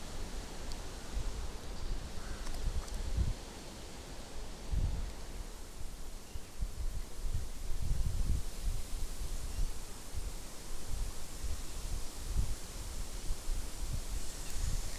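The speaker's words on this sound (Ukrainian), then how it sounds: "Вітер розгулявся." Steady outdoor wind rushing and gusting at a lakeshore while perch fishing, with low buffeting thumps against the microphone and rustling throughout.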